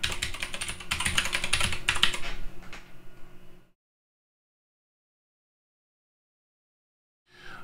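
Rapid clicking of a computer keyboard while an admin password is typed, a close busy burst of keystrokes for about three seconds, then silence.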